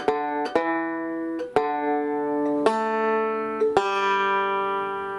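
Banjo picks the Happy Birthday melody on the 4th and 3rd strings: six or seven clear plucked notes at a slow, deliberate pace, each ringing briefly. The playing is close, soft and solo.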